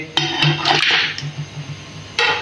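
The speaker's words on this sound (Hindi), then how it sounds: "प्रेशर कुकर ले लिया है। अब हम इसके अंदर 1 किलो बीफ डालेंगे" Raw beef, one kilogram, drops into a metal pressure cooker with sharp clanks and a soft wet thud, followed by a few lighter metallic knocks and scraping.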